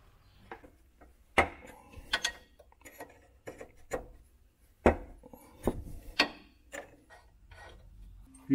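Sharp, irregular metallic clicks and clacks from a ratchet turning a 14 mm socket on a VW T3 van's suspension bushing bolts, spaced in short bursts with pauses between them, close up with no talking.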